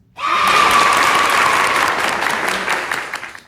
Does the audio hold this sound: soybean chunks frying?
no